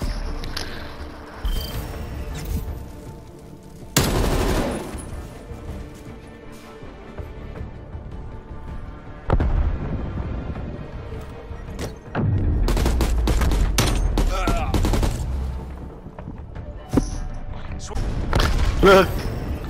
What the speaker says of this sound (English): That was fucking Chimuelo shooting me